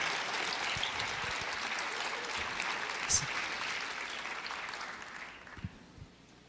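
A church congregation claps together at a conference service, a broad steady wash of applause that swells and then tapers off toward the end, with a few scattered louder claps and a voice audible underneath.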